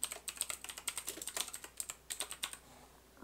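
Quick bursts of computer keyboard typing as a fleet name is entered in the space strategy game Andromeda: Rebirth of Humanity, crisp close keystrokes in a fast irregular rhythm, alone.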